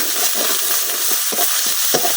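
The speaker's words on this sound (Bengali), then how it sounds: "এখন আমি এই তেলের মধ্যে দিতে দিচ্ছি বাইটা আদা, বাইটা রসুন, বাইটা পেঁয়াজ।" Ginger, garlic and onion paste frying in hot oil in a kadai over high flame makes a loud, dense sizzle throughout, with occasional stirring scrapes, very close and without talk.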